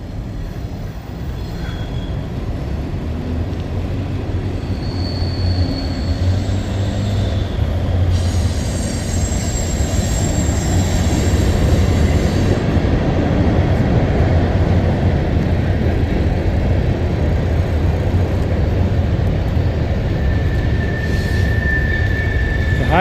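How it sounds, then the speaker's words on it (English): A train rolls past near the Route 15 bridge by the C&O Canal towpath on its way to a tunnel, a loud, sustained rumble of wheels on track with intermittent high wheel squeals over more than twenty seconds. "That's the train going to the tunnel."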